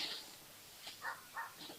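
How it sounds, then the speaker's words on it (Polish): Dogs in the board game Meep yap and bark at each other, several short sharp bursts in quick succession over a faint background. "Znowu krzyczą na siebie nasze pieski kochane."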